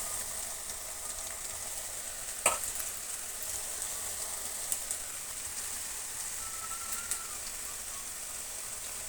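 Pakoda fries in hot oil, a steady close crackling sizzle with faint bubbling throughout and a single brief clink near the start, no voices heard.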